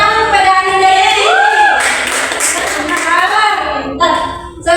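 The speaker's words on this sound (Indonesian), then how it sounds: "Tepuk tangan kepada Anda Ibu." Applause for a student during a school practical exam in Islamic creed and morals: a burst of clapping swells for a couple of seconds, mixed with children's and adult voices talking around it.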